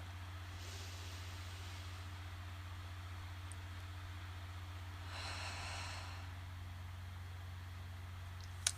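Slow deep breath taken in a quiet room over a steady low hum, a soft airy inhale and a fuller exhale, faint and close.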